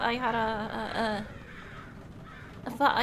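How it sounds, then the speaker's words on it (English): Soundboard crow effect: harsh, cawing calls in a quick burst over the first second, a quieter gap, then another caw near the end, loud and close. "And I got crows."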